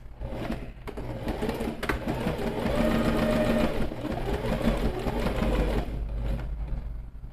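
A sewing machine runs steadily as it stitches a seam with a 1 cm margin, a continuous mechanical whir close by that holds even throughout.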